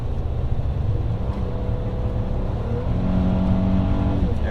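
A Mercedes E350 engine revs in manual shift mode inside the car, a steady loud hum that climbs in pitch and swells toward the end.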